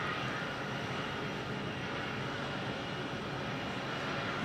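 Broadband aircraft engine roar from an airliner during pushback at Phoenix Sky Harbor airport, a steady loud rushing drone that holds constant and close throughout with no talking.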